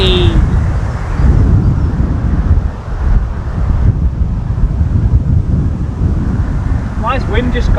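Strong wind buffets the microphone on a golf course, a loud continuous low rumbling roar with gusting swells throughout, a brief faint higher sound near the end.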